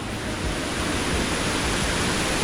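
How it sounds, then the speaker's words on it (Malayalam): A waterfall rushes near Cheppukulam in Idukki with a dense, steady, full-band roar of falling water, loud and close, unbroken for the whole stretch and with no voices over it. "ഇവിടെ മുഴുവൻ വെള്ളച്ചാട്ടം കേട്ടോ."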